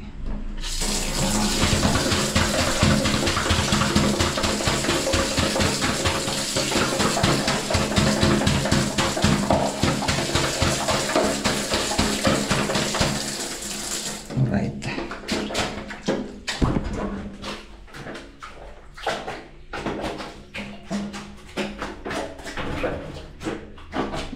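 Tap water runs steadily and loudly into a basin for rinsing, then breaks into splashing and intermittent pours with knocks and handling sounds in the second half.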